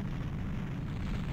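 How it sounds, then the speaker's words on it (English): A tower collapses in a rumbling explosion at the finale of Zelda: Ocarina of Time, a dense, steady low roar with no voices. "All that explosion"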